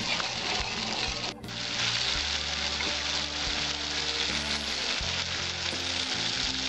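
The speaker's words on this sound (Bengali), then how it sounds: "এবার আমি ভালো করে কষিয়ে নেবো" Spice paste with tomato puree sautés in a pan, a loud, even sizzle running throughout, close up, with one brief dip near the start and soft stirring underneath.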